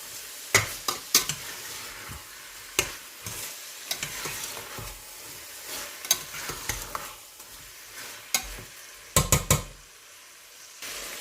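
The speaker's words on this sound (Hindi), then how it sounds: "अच्छी तरह से भूनेंगे इसको 2 से 3 मिनट के लिए।" Kachnar buds and minced keema are stir-fried in a pan, a soft steady sizzle punctuated by sharp scrapes and clanks of a spoon against the pan at irregular intervals.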